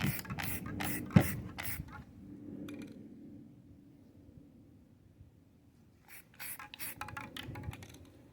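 Aerosol spray paint applied to an AR-10 rifle in short hissing bursts, several quick sprays, a pause with faint handling noise, then another cluster of short bursts, fairly close and quiet.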